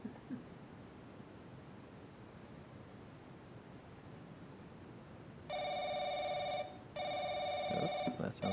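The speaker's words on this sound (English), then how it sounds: "that sounds like the phone" A telephone rings in the horror video game The Crooked Man, sounding two loud bursts of electronic ringing over a faint, rushing ambient background, with a short gap between them and no talking.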